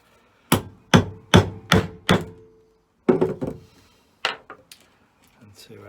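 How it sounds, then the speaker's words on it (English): A chisel hammered through soft rivets on a portable AC exhaust fan: five quick, evenly spaced metallic thunks, a pause, then a few more scattered, irregular strikes, close and alone. "So luckily for me, those are chocolate rivets. Chisel went through them quite easily."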